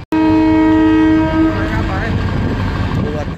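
Karachi Circular Railway train passing close and loud, opening with a long sustained horn blast over the roar of rolling wagons and wheel noise that continues to the end.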